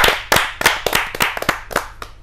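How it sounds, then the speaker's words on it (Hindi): A small audience at a Hindi poets' gathering claps to welcome poet Rajneesh Upadhyay, sharp irregular hand claps close by, a sparse burst of individual slaps rather than a full roar, lasting about two seconds. "आपकी जोरदार तालियां मिले रजनीश उपाध्याय जी।"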